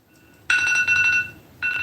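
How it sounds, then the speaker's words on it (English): An oven timer alarm beeps for a cake, two loud, close, high electronic tones: one long trill, a short gap, then a second burst starting, with no speech. "That's the alarm, guys, so"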